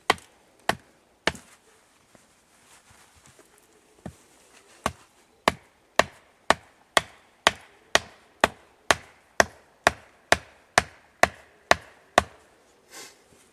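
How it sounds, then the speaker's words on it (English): Wooden post being hammered into the ground outdoors at a bushcraft camp; sharp, evenly spaced knocks, sparse at first then a steady quick run of about fifteen blows, close and clear with no talking. "If you're going to nail a post into the ground, place your foot against the base of the post itself."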